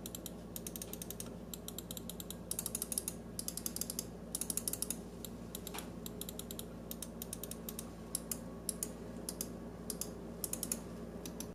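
Crisp plastic clicks of an Xtrfy M42 gaming mouse button come in quick irregular bursts, sharp and close over a quiet background hum.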